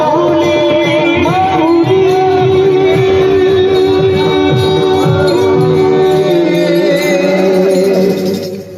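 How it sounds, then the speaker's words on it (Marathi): Devotees at a kirtan held at a Radha Krishna temple chant names together, a loud, steady, sustained melodic chorus with continuous musical accompaniment that fades near the end. "असा जोरदार गजर चाललाय."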